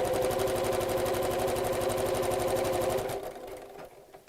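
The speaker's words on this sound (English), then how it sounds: "So you carry on sewing for as long as or as deep as you need the shirring elastic" A sewing machine stitches fabric with shirring elastic, a rapid, even mechanical chatter running loud and steady for about three seconds before slowing and stopping.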